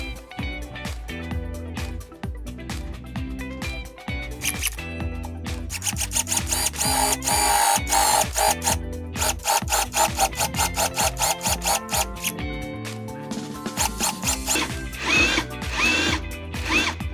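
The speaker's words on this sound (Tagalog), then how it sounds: "yung ginamit pala natin ay yung flat wood drill bit" A Ryoku cordless drill bores into wood with a flat wood drill bit, giving loud, sustained whirring bursts broken by short pauses and ratcheting clatter, close up with no talking.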